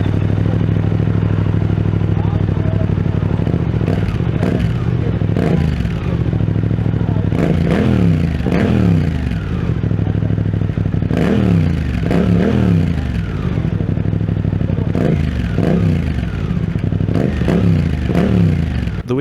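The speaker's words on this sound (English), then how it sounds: "if you do get an aftermarket exhaust, this is the potential you'll be able to unlock." Suzuki GSX-8S motorcycle fitted with an aftermarket exhaust, revved repeatedly up close, each blip rising and falling over a loud, rumbling idle, with rattly exhaust crackle between throttle bursts.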